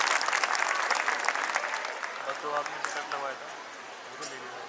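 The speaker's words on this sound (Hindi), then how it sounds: "जोरदार तालियां." Loud applause from a crowd at a school annual day that gradually thins out, with voices starting to talk as the clapping fades.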